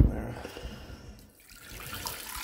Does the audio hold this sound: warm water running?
yes